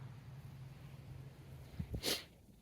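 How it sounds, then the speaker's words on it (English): A person outdoors in a chilly autumn vegetable garden gives a couple of quick sharp sniffs near the end, close and brief over faint background quiet. "I'm sniffing because it's chilly out here."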